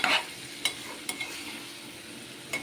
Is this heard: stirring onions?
yes